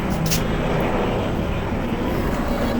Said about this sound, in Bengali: এই হেলিকপ্টারের শব্দে কথাও বলতে পারি না